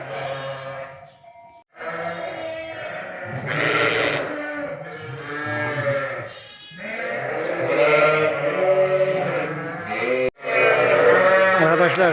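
Sheep bleating in a pen during lambing season, many overlapping loud, wavering calls from several animals close by, with brief pauses between bursts.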